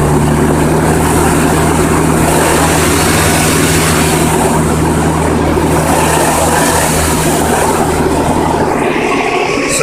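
A Toyota RAV4 engine with a P0401 insufficient EGR flow fault held at a high, steady 3,000 RPM, loud and close, droning continuously with no talking.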